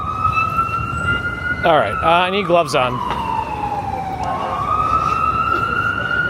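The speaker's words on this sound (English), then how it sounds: "They should be turning somewhere just because if it's an ambulance, the hospital is very nearby." Ambulance siren wailing along a New York City street in Manhattan at night, a steady rising-and-falling tone that runs through the whole stretch, with street noise beneath and a person talking briefly over it midway.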